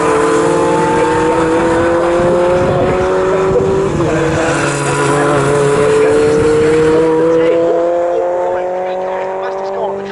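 A BRSCC Fun Cup race car screams around Snetterton circuit with a loud, sustained engine note that climbs steadily in pitch as it accelerates, then tails off near the end. A commentator's voice runs underneath.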